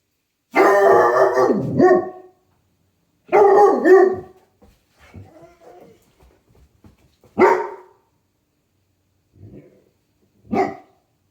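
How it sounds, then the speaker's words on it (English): A dog barks in several loud, close bursts, a couple of longer volleys followed by sharper single barks, with quiet gaps between them. "I caught him barking."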